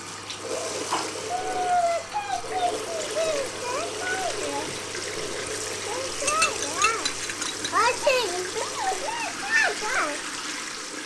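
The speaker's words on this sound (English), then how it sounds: "Jez opens the tap and washes the spoons and bowls" Water runs from a tap in a steady splashing trickle while spoons and bowls are washed, with a voice and other speech heard over it at close range.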